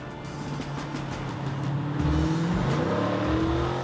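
A 2015 Dodge Challenger SRT with 500 hp to the rear wheels accelerating, a deep, steady engine roar rising in pitch as revs climb, loud and close throughout.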